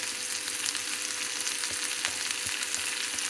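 Amaranth leaves (thotakura) fry in a pan with a steady, dense sizzle and occasional soft clicks of stirring, close and continuous with no voices.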